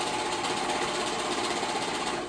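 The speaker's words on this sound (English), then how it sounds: "I'm looking into a new serger, because this serger is old and very loud." An old, very loud serger sewing machine runs steadily at close range, a dense continuous mechanical whir and rattle with no pauses for the full stretch, tapering slightly at the very end.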